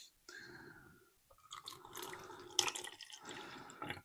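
Red-coloured water is poured through a funnel into a plastic bottle, giving a soft, quiet trickle and splash with a few gentle drips and gurgles.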